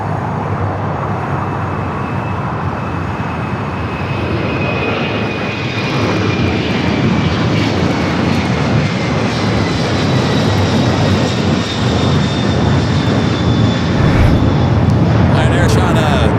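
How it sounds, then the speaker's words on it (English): An Air China airliner lands on runway 24 right at Los Angeles airport, a broad roaring rush that swells louder toward the end, with a faint whine above and voices talking over it. "Air China about to touch down there on the north side at 24 right"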